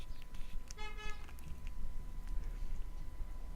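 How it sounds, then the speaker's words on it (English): Car horn honking outside, a short tooting blast heard faint and distant beneath a steady low room rumble, with no talking. "You could probably hear the car horn."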